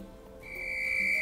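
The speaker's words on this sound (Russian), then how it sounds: "Ольга Дмитриевна достала из кармана свисток, а от души в него подуло." In the video game Everlasting Summer, camp counselor Olga Dmitrievna blows a whistle hard: one sustained, shrill, steady tone that starts partway in and holds to the end, loud and close, with no talking.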